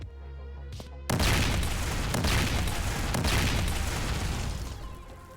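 A grenade blast from a Boneworks VR grenade mod erupts after a second of quiet, followed by a long, loud rumbling roar with crackling debris that slowly fades over several seconds.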